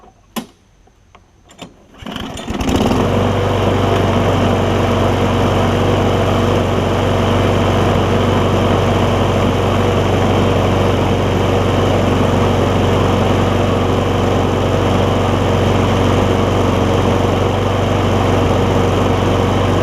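A Craftsman push mower with a Briggs & Stratton Quantum engine fires up after a few pull-start tugs, then runs steadily at a loud, close, even drone with a repaired exhaust.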